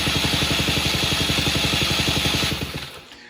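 A Suzuki LT80 quad's small engine idles high with a rapid, even putter, since the throttle is not returning fully to idle; the engine then cuts out and falls quiet near the end.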